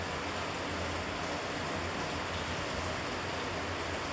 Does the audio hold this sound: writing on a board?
no